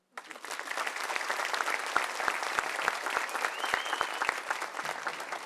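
An audience rises and applauds Rubem Alves after his talk: steady, dense clapping from a large crowd starts abruptly and holds at an even level throughout, with no speech over it.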